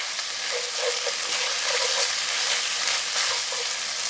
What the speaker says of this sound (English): we're just going to combine the ground pork with our sauce